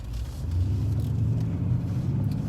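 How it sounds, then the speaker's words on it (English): Mercedes-AMG GLE63 S engine rumbling steadily nearby from inside the car, a dense low growl with faint crackles, no talking. "I love the little burbles and pops and angry noises it makes when you get off the throttle."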